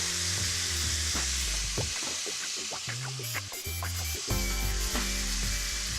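Steaks marinated in Cabernet sizzle and fry steadily in a hot pan after being flipped to brown on the second side, with a loud, continuous crackle and occasional clinks.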